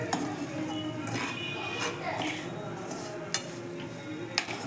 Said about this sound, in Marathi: हे आपल्याला असंच एक 5 ते 10 मिनटं मिक्स करायचं आहे